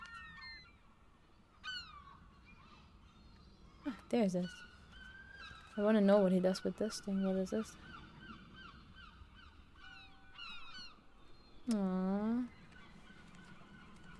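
Seagulls cry outside in the RiMe video game, their rising calls surfacing now and then beneath a person talking at length over them.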